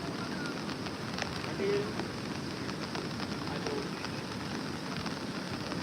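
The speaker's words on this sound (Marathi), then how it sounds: "भर पाऊस चालू आहे" Steady, dense hiss of heavy rain pouring down without a break, with a few sharper drip-like taps scattered through it.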